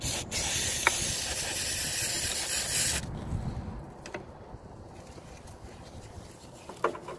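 Cleaner sprayed onto a Scion xB throttle body gives a loud, continuous close-up hiss for about three seconds, then stops, leaving quiet shuffling and a few faint clicks.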